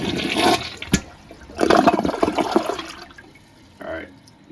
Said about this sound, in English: that is the 4th flush in a row